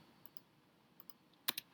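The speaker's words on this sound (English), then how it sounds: "double click back in" Computer mouse clicked in a quiet room, faint light ticks in pairs spaced through the moment, ending with a slightly louder quick double click.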